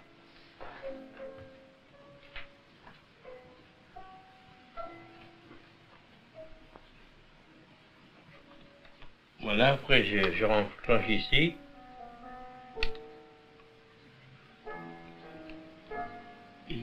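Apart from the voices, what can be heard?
pendulum clock ticking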